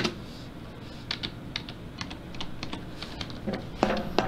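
Rapid, uneven clicking of keys on a computer keyboard, close and fairly quiet, with short pauses between bursts and a slightly louder clatter near the end.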